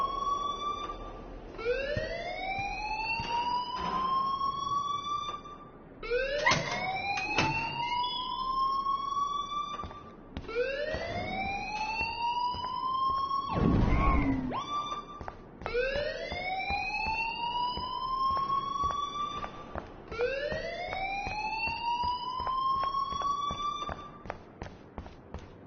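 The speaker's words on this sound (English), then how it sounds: "please turn off that alarm since that's your job" A wailing alarm in the video game Life is Strange, rising siren sweeps repeating about every four to five seconds, loud and continuous, with brief noisy bursts between cycles.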